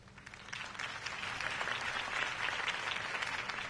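A crowd applauds after a campaign speech for Harvey Dent, steady clapping that builds from scattered claps into a dense, sustained round without any talk.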